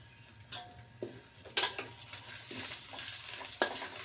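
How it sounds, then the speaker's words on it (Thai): Onion stir-frying in a little oil over a pan, a soft steady sizzle broken by scattered light clicks and scrapes of stirring, quiet and close. "ผัดหอมหัวใหญ่"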